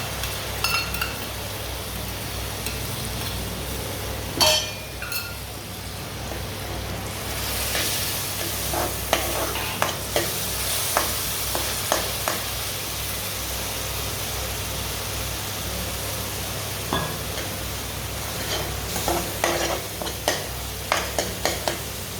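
Spice paste sizzles steadily in a hot pan, with scattered clicks and scrapes of stirring throughout; no one speaks.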